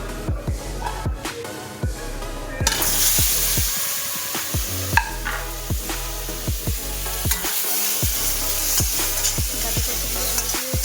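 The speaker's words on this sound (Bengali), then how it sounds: "এখন আমি এই তেলের মধ্যে দিয়ে দেবো গাটি কচুগুলো।" Taro pieces frying in oil in a wok after fish, a loud, close, steady sizzle that swells when the taro goes in, punctuated by regular sharp spatula knocks and scrapes against the pan.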